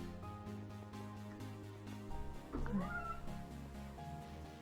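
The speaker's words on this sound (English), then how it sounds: "The kitties are making some noises." Several house cats meow and caterwaul indoors, a drawn-out rising and falling yowl standing out over quiet, steady background tones, with no talk.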